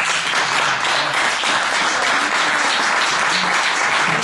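Congregation clapping hands together at a church service, a steady dense wash of applause filling the room with no pauses.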